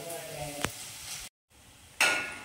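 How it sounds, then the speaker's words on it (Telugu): Onions frying in a home kitchen pan, a steady soft sizzle broken by a sharp utensil knock, a brief silent gap, then a louder burst of hiss as the frying resumes close by. "ఇదిగోండి, ఆనియన్స్ బాగా ఫ్రై అయిపోయాయి చూడండి"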